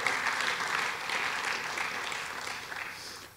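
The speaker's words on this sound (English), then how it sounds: "let's join in another round of applause" Sustained applause from the audience at an awards dinner, a dense steady patter of many hands that holds fairly even and then fades slightly toward the end, with no talking over it.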